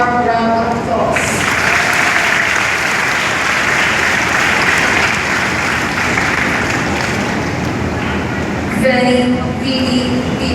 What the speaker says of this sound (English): My dear batchmates, let us give ourselves a warm round of applause.